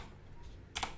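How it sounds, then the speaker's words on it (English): Faint room quiet, then a quick cluster of two or three computer keyboard keystrokes near the end, close and soft. "I'm gonna type"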